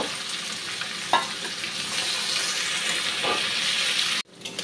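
Bay leaf, onion and garlic sizzle steadily in hot oil in a pan for a chicken curry, with a couple of stirring scrapes along the way and an abrupt clunk before the frying resumes more faintly.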